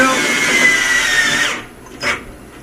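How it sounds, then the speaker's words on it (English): A power driver whirs as a self-tapping sheet metal screw is driven into an LED tube driver during a T8 fixture install, one loud close burst that stops abruptly, followed by a short quieter sound. "We're just using a sheet metal screw with a self-tapping head on it"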